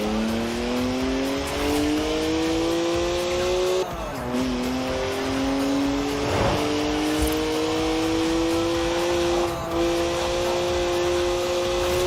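A rear-wheel-drive BMW driven hard in Forza Horizon 4: a loud, close engine climbs through the revs, dips on a gear change and climbs again, with tire squeal and skidding layered over the steady drone.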